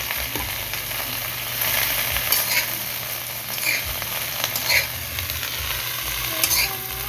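Cabbage frying in a pan with garlic and onion, a steady close sizzle with stirring scrapes throughout, no voices.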